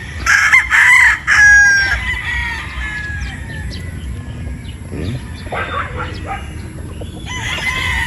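A Boston Roundhead rooster crows loudly nearby on a gamefowl farm, followed by scattered clucks and other bird calls, then another crow begins at the end.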